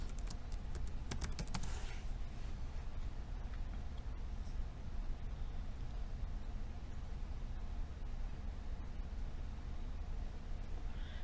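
Keystrokes of an administrator password being typed on a computer keyboard, a short burst of distinct clicks at the start and then a steady background hum.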